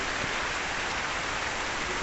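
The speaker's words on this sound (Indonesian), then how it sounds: "Hujan di luar." Steady rain falls at night outside a house roofed with coconut-palm leaves in a Bajo community, a constant even hiss with no voices over it.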